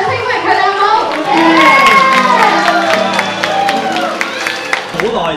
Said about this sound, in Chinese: 请 热烈嘅掌声，